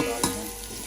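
Onions being stirred and sautéed in a pan, a close, steady sizzle with a brief scrape of stirring near the start, no talking.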